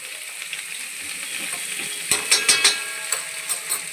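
Vegetables such as beans, carrot and peas sauté in a pan, a soft sizzle under a cluster of sharp scraping and clattering stirs in the second half.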